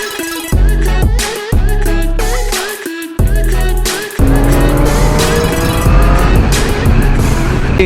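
A Pulsar 220 motorcycle fitted with an Aero aftermarket exhaust revs hard and close, with several sharp throttle blips and pauses before settling into a loud sustained high-rev drone.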